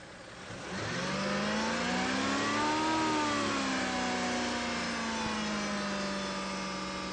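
A Mazda MX-3 car engine holds a steady, raised idle between 2,000 and 3,000 RPM, its revs climbing briefly then settling into a sustained, close drone.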